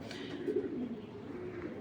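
Pigeons at a Bengali pigeon farm cooing in low, steady murmurs, a close continuous warble with a few louder swells over light background noise.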